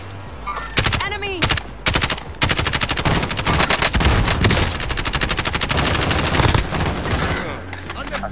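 Loud video game shooter gunfire, rapid automatic bursts and single shots packed closely together, continuous and close throughout with brief gaps between volleys.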